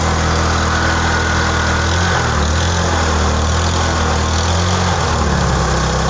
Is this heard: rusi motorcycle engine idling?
yes